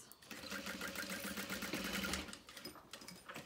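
A sewing machine top stitches fabric for a make-up bag, a fast steady mechanical whirring run of stitches that slows and stops near the end, at moderate loudness.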